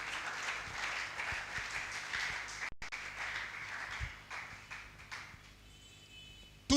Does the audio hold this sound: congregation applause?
yes